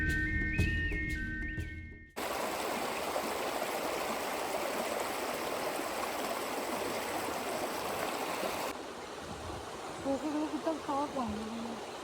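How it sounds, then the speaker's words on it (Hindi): A large, crystal-clear forest stream in Jim Corbett National Park's Sitabani zone rushes steadily and loudly, a broad continuous wash of water that runs alone after a brief opening of other sounds and softens slightly near the end. "हमें मिलती है एक बड़ी स्ट्रीम"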